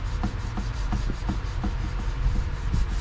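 Sandpaper rubbed by hand over C6 Corvette dashboard trim makes close, even back-and-forth scraping strokes at a quick, steady rhythm, about four per second, with no voices.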